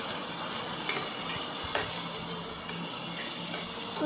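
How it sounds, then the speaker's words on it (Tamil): Mint and coriander sautéing in a hot pan give a steady, close sizzle, with a few soft scrapes and clinks from stirring and no one talking. "புதினாமல்லி போட்டு நல்லா வதக்கிட்டு நல்லா வதக்கிக்கோங்க"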